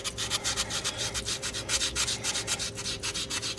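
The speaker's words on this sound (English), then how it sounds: "all I do is I sand the echinoid" Fast, rhythmic rubbing strokes of sanding across a fossil echinoid set in a hunk of rock, repeating evenly and close up with no talk.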